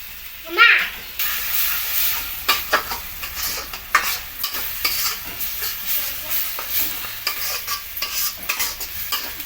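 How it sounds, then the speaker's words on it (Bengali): Spices with Kashmiri chilli powder frying in a pan for mutton curry with a steady sizzle, broken by repeated scraping and stirring strokes, close by; a brief voice near the start. "মশলাটা ভালো করে ভাজা হচ্ছে"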